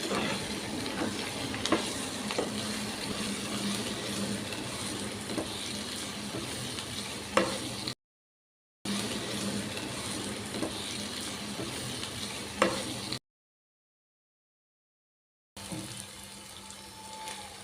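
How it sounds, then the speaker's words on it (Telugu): Gongura leaves frying in oil over medium flame while being stirred, a steady dense sizzle with occasional utensil scrapes, broken by two short silent gaps. "గోంగూర అనేది చక్కగా ఇలా ఆయిల్లో ఫ్రై అవ్వాలి."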